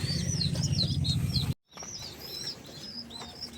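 Racing pigeons at feeding time, their wings flapping in a steady rustling flutter with scattered chirps and coos, briefly cut off before the busy fluttering resumes.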